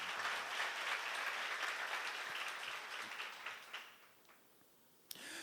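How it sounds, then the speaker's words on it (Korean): A congregation at a church seminar applauds, a steady wash of many hands clapping that thins and fades away after about four seconds, followed by a single sharp knock. "박수로 나와주세요"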